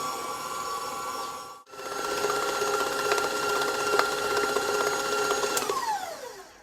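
Electric mixer whirring steadily as it beats almond gooey butter cake batter, with a brief stop partway through and then a long continuous motor drone with a high whine, close and fairly loud.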